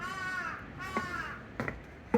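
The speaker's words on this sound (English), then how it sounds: "to the sound of crows." Several crows caw in Kamakura, Japan, sounding from a moderate distance as a rough, harmonic series of calls, with a few short sharp knocks near the end.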